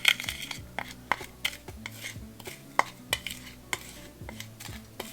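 Crab and shrimp scampi is stirred in a pan after seasonings and wine go in, with a spoon scraping and clinking against the metal in irregular taps and scrapes, alone and fairly close.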